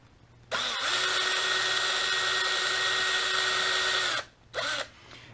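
A power driver spins out bolts from the inner cage of a Traxxas X-Maxx RC truck: one steady high whine lasting about four seconds, then a short second burst, close and clear.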